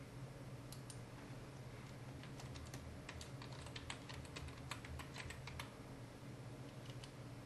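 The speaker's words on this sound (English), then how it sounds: "I'll type something down here." Typing on a computer keyboard, a quiet, fast, irregular stream of clicky keystrokes over a low hum, with no voices.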